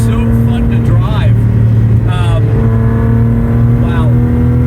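A 1977 Datsun 280Z's engine drones steadily from inside the cabin as it gears down, a loud constant hum with brief rev changes at the downshifts, while someone talks over it.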